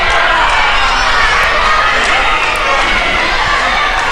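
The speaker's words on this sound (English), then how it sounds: "They have been chanting Fear the Beard since the opening bell." Wrestling crowd at a Smash Wrestling title match between Matt Cross and Tyson Dux, loud and continuous as it chants and roars throughout, a dense wall of arena noise with no clear pauses.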